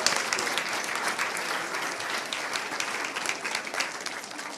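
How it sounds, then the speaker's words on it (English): A school board meeting audience bursts into sustained applause, many hands clapping steadily and fairly loud throughout, with a few faint voices underneath. "Okay, let's give them another round of applause."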